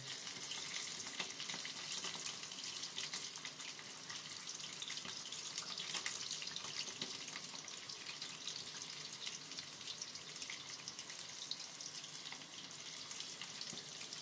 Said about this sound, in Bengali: আমি উল্টে পাল্টে ভালো করে ভেজে নিচ্ছি।